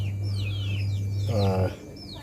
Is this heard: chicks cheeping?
yes